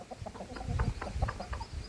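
Fighting cock with exceptionally strong spurs making a run of short, close clucks in an irregular rhythm over low background rumble, no talking.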